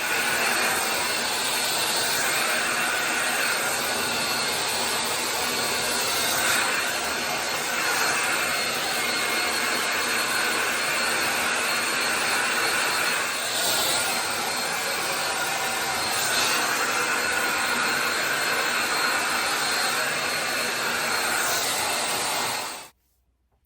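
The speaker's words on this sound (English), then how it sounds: "I'm going to blow dry my hair." A hair dryer blows hair dry, a loud, steady rushing whoosh with a faint whine that holds nearly unchanged for over twenty seconds, with slight shifts as it moves, before cutting off abruptly.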